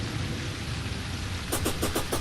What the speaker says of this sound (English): at least it's raining in the desert.